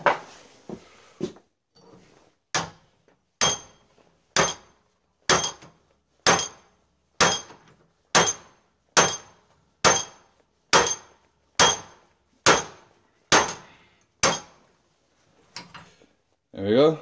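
Steel punch hammered through a hatchet head held in a vise at a forge: about fifteen sharp, evenly spaced ringing metal strikes, loud and close, with a brief pause near the start and no talking.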